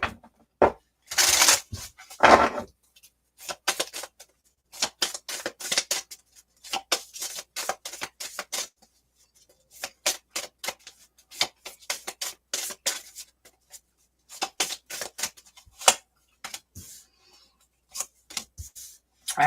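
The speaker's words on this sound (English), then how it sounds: "Give these a good shuffle for MD." Tarot and oracle cards shuffle in crisp, irregular bursts of riffling and tapping, with short pauses between handfuls, close and fairly quiet.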